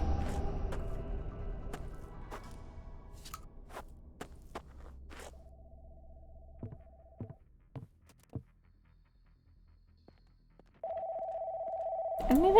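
Telephone ringing in the video game Confabulation: Homestead, a steady electronic tone that starts near the end, after scattered footsteps and clicks in a quiet room.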